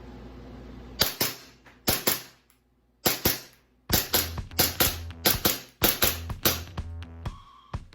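An Armorer Works AW VX9301 gas airsoft pistol fires a rapid series of sharp, close snapping shots in irregular clusters, each crack followed by a short mechanical clack, with brief pauses between strings.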